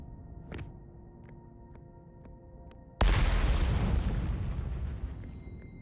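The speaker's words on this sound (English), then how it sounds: "stuff is exploding as it tends to do on Brittle Hollow" An explosion on Brittle Hollow in Outer Wilds bursts in suddenly after a few faint tones and clicks, then a loud rumbling roar that slowly fades.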